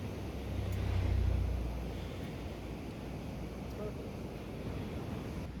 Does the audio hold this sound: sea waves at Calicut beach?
yes